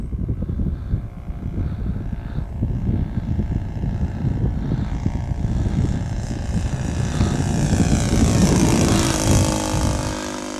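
An RC P-51B Mustang model plane, a 1580 mm ARF powered by a Saito FA 62B glow engine, drones overhead in a steady buzzing whine that rises in pitch as it swoops past, with wind noise on the microphone.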